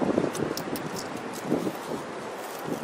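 Strong windstorm gusts roaring into an outdoor microphone, a broad, loud rushing with surges and buffeting that rise and fall continuously, with no voices.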